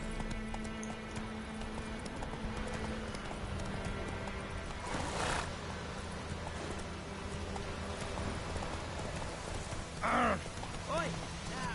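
A horse in The Witcher 3 gallops with steady, rapid clip-clop hoofbeats over a soft ambient bed, broken by a couple of brief whinnies and a short spoken call.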